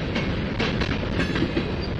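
CN freight train of battleship gray hopper cars rolling past close by, a steady loud rumble with rhythmic clickety-clack of wheels over rail joints throughout.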